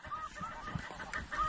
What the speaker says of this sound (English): Look at all the geese over there.